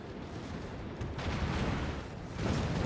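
Battleship front turrets fire in a naval combat game, producing a low, rumbling boom that swells in two waves over a constant background roar, fairly faint overall and with no talk.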